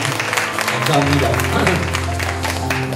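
Congregation applause at a church's 14th-anniversary praise service, a bright clapping wash running under a voice speaking over it.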